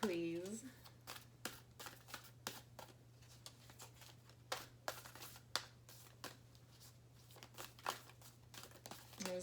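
A tarot deck is shuffled at length, with soft, quiet crisp riffles and papery slides repeating over a low steady hum, and a voice heard briefly at the start.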